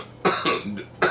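Two short, dry coughs close to the microphone, separated by a brief rasping breath, in a quiet indoor room.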